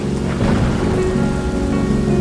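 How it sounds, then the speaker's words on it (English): Steady heavy rain pours loudly and continuously, with low rumbling undertones suggesting distant thunder in a storm; no voices. "The storm screamed."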